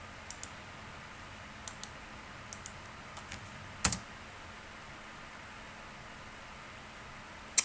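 Sparse keystrokes on a computer keyboard as a web address is typed, isolated sharp clicks in small pairs and clusters with long pauses between, close and fairly quiet over faint background hiss.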